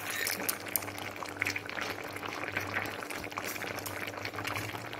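A pot of shukto, mixed vegetables with fried bitter gourd and bori, bubbles and simmers steadily with a constant low hum beneath the soft crackle, close and moderately quiet throughout.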